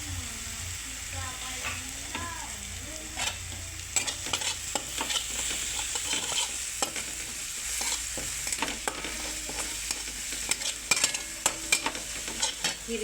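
Green chilies roast in a pan with a close, crackling sizzle, accompanied by frequent sharp scrapes and taps of a spoon stirring against the metal, growing busier over time.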